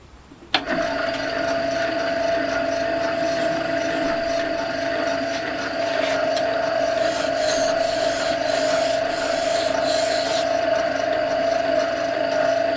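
The back of a chisel is lapped on a sharpening stone, producing a continuous close gritty rubbing hiss with a steady tonal ring, starting abruptly and running unbroken to the end.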